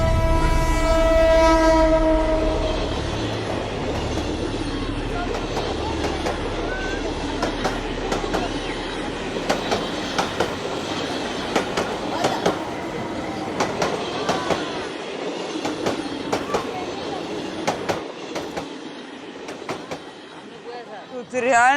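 A train horn blasts loud and close as a train rolls through a crowded Dhaka slum, followed by steady rumbling and clacking of cars passing nearby, with people's voices and shouts mixed in.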